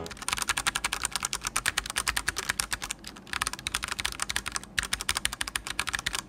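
A mechanical keyboard is typed on at a quick, steady pace, giving dense, crisp clacking keystrokes close up, with two short pauses.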